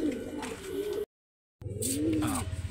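Pigeons coo softly and close by at a racing-pigeon loft in San Miguel, Bulacan. Low, rolling coos repeat, break off for a moment of silence, then return.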